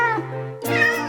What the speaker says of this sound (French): Et toi, vilain Gramgrum, je te change en matou tigré.